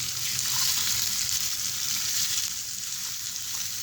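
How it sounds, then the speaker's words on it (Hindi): Carrots and peas frying in a pan while making vegetable noodles give a steady, close sizzle with a soft hiss, continuous and even throughout with no voices. "अब मैं इसके अंदर गाजर और मटर ऐड कर दूँगी और इसे मिक्स कर दूँगी।"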